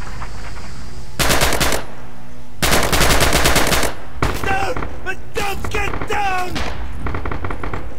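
Machine-gun fire in Red Orchestra 2: Heroes of Stalingrad rings out in two loud, sustained bursts. Scattered shots and battle noise follow, mixed with brief shouting voices.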